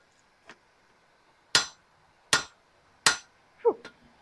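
Hammer blows on a forge-welded axe head at a forge, four sharp ringing metallic strikes at a steady, spaced rhythm, close and loud, with a faint tap beforehand and a quick clink after.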